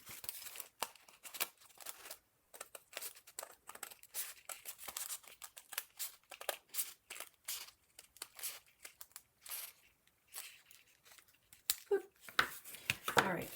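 Scissors cutting paper to open an accordion envelope pouch, a series of quick close snips and paper rustles with brief pauses, a voice speaking in between.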